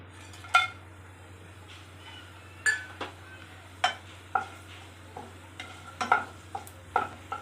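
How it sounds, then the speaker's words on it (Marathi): Whole spices dropped into hot oil in a pan for prawn rice, a soft sizzle under a series of sharp spoon clinks and scrapes against the metal at close range, with a low steady hum beneath. "तर आता एक खडे मसाले टाकते"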